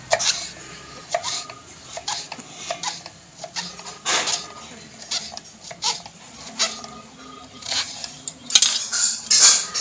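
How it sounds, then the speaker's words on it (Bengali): A knife chopping brinjal into small pieces on a board, with irregular close taps and clinks of the blade, some quicker runs of cuts, continuing steadily throughout. "দেখো একদম ছোট্ট ছোট্ট করে কেটে নেব বেগুনটাকে।"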